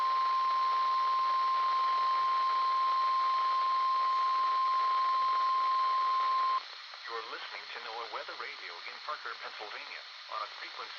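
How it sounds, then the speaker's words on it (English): A weather radio station's alarm test tone holds one steady, loud pitch for about six and a half seconds over a hissy broadcast, then cuts off as a synthesized voice starts talking. "The preceding tone signals were a test of the alarm device of this weather radio station."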